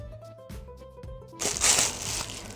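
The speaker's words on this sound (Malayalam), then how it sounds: "അത് നമുക്ക് അൺബോക്സ് ചെയ്യാം." A Nykaa product package is being unboxed, with a sudden burst of crinkling and crushing packaging in the second half after a quieter, tonal stretch.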